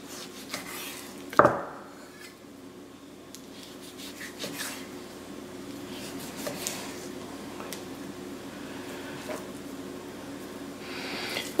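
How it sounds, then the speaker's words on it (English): A knife cuts pork into similar-sized pieces on a board, with a sharp knock early on followed by soft, repeated slicing and rubbing strokes at close range in a quiet kitchen. "Trying to cut the pieces into fairly similar sizes."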